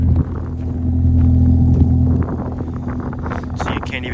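A Ford Focus ST engine idles to warm up in snow: a steady low, droning hum holds for about two seconds, then drops back under gusty wind buffeting the microphone, with faint scraping and clatter.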